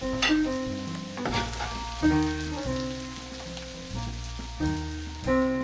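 Vegetables sizzling in a pan for a slow winter stir fry, a steady crackling hiss running under melodic music for the whole stretch.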